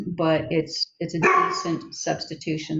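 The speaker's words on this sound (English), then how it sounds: "Sorry about the dog." A dog barks repeatedly indoors, loud sharp barks overlapping and mixed in with a person talking close by.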